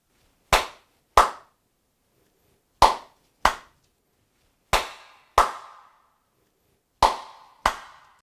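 Eight sharp single hand claps in an indoor room, spaced out in pairs, each loud and crisp with a short reverberant tail, with silence between them.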